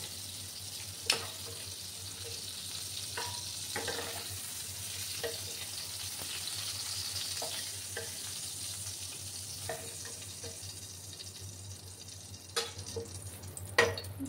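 Fried pointed gourd (potol) sizzling steadily in a pan, a faint continuous hiss broken by occasional utensil clicks and scrapes, with no talking.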